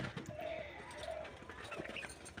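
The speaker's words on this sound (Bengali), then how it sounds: "এই দেখুন সিরাজ পায়রাটা" Soft cooing of a Sirazi pigeon, a couple of low murmuring coos amid shuffling and light background noise, heard close by.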